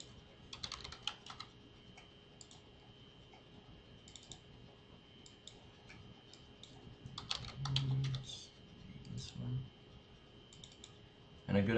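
Clicks from a mouse or keyboard while working with the slice selector tool in Photoshop, arriving in scattered short bursts over a quiet room tone with low murmurs in places.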